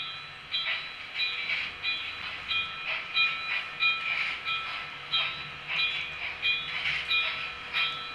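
A Brawa V100 model locomotive and an oncoming model locomotive run on a layout at a goods station exit, giving a steady, evenly pulsing mechanical hum and whine with rhythmic swells, fairly close and moderately quiet.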